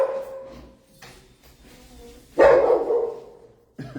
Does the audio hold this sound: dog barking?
yes